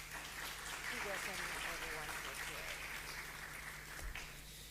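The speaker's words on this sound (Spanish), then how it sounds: "Para todos ustedes, un cálido aplauso de bienvenida." An audience at an early-childhood education presentation gives a warm welcoming applause, a dense, steady wash of clapping that holds evenly and eases off near the end, with faint voices mixed in.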